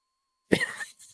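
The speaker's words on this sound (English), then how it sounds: "I cough and glare back at Lancer" A single short, husky cough in the video game Fate/Stay Night: Unlimited Blade Works bursts out after a moment of silence and trails off into a breathy rasp.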